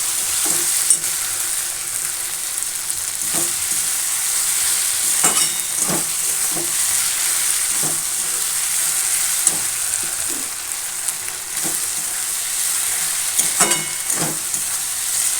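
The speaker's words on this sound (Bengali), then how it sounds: "একটু নাড়াচাড়া করে নিচ্ছি।" Cucumber shukto simmering and sizzling in a pan, with a spoon stirring through it in scattered scraping strokes over a steady hiss; close and moderately loud, no voices.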